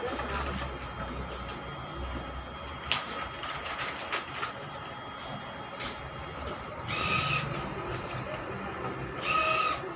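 An Epson SC-T5430M large format printer runs through a print job, its steady mechanical hum and hiss broken by occasional clicks and brief louder whirring passes of the print head, with no talking.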